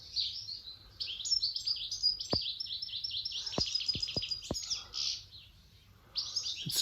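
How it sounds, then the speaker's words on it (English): Birds sing continuously in high, bright trills and chirps, fairly close, with a few sharp clicks or taps breaking through and no talking. "Let's just listen to the birds a moment."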